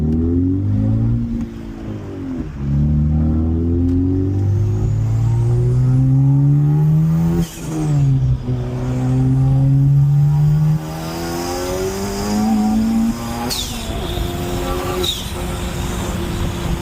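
A tuned 600hp Honda Civic Type R accelerates hard in a pull, the engine revving up through the gears with brief dips at the shifts, loud and close, with no talk.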